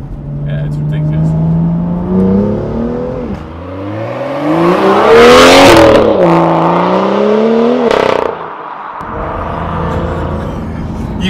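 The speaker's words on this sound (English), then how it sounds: "I mean, the M2 sounds mad." A BMW M2 F87 with an iPE exhaust revs hard and loud, its engine note sweeping up and down through several rising and falling pulls with a raspy peak, and a short pause before it idles on.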